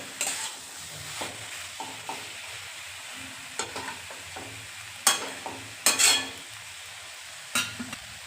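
Masala spices being stir-fried in a pan for a potato and papad curry: a soft continuous sizzle broken by irregular scraping and clinking of a spatula against the pan, with a few louder knocks.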